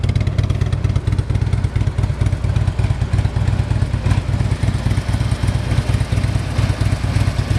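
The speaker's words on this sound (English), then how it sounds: "Bike sounds awesome." A 2015 Harley-Davidson Road Glide touring motorcycle with a big 103 V-twin idles steadily and close by, its loping, throbbing rumble continuing without a break and with no talk over it.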